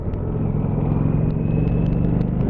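2019 Indian Chieftain motorcycle cruising at about 30 mph in third gear around 2000 RPM, a steady deep engine rumble with low-pitched exhaust pulses and wind noise, continuous and close.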